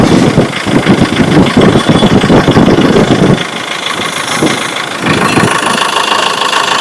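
Mahindra Scorpio mHawk diesel engine idling with a faulty fuel injector, a loud, close, uneven rumble with a rough, stumbling misfire rhythm that softens briefly and then picks back up.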